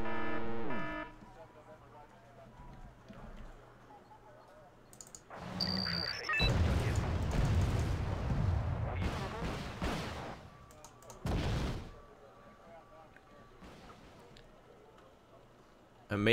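Missiles launching and explosions in the real-time strategy game Wargame: Red Dragon form a dense, loud burst of booming blasts and rushing launches, then a second sharp blast, over low game ambience with a voice talking.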